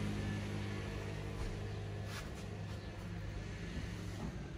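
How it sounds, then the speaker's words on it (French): Cars on the road below a balcony make a continuous, steady traffic rumble, moderately loud and unbroken, with no single pass standing out. "c'est pour ça qu'on entend vachement les voitures."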